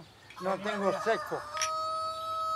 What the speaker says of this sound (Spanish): Hasta el gallo cantó.